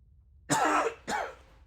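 Two harsh, close coughs in quick succession from a person, each a short rough burst with a brief pause between, alone in a quiet room.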